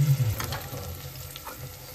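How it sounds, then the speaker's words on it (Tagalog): Onion frying in a small amount of oil, a soft steady sizzle with faint crackles and a spoon scrape or two, close but quiet. "Init muna tayo ng mantika. Din ilagay natin ang ating onion."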